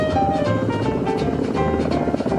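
A Flettner 282 light synchropter helicopter of wartime Germany drones loudly and steadily with a rough rotor and engine roar throughout.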